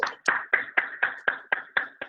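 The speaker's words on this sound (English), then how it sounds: "we're just going to give them a round of applause" A short burst of about nine rhythmic hand claps, close and fairly even, like a small group applauding briefly.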